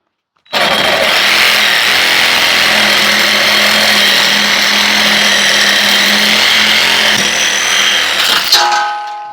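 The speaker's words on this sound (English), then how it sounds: "We can always grind a little bit off of there." A power grinder works on a metal part during a Kioti tractor repair, with one loud, continuous harsh grinding roar lasting several seconds before it winds down and stops.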